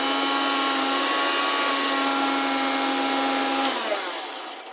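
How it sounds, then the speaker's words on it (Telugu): A mixer grinder whirs loudly and steadily while grinding egg curry masala, a continuous motor hum with a high buzzing whine that cuts off abruptly near the end and leaves a fading tail. "ఇప్పుడైతే నేను గ్రైండ్ చేసేసుకుంటున్నాను, మిక్సీ పట్టుకుంటున్నాను."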